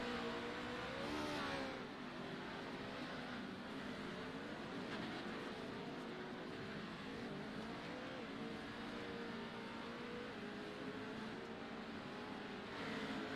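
Pro 2 and Pro 4 off-road race trucks race together at Crandon, their engines a distant, continuous roar that rises and falls as they rev.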